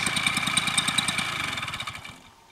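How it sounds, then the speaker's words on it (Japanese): A paramotor engine on a tour in Hokkaido runs with a loud, rapid pulsing drone, then winds down and cuts out into near silence after about two seconds. "エンジンを切りました。"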